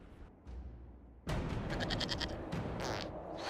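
A goat bleats in the video game Dragon Age Inquisition: a short, quavering series of bleats follows a sudden jump in loudness, set against steady low game ambience.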